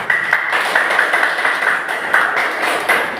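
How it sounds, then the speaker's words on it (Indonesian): A classroom group claps hands together for a student group, a brief run of loud, uneven claps with sharp individual slaps over about three seconds. "ayo kita tepuk tangan untuk kelompok pasif"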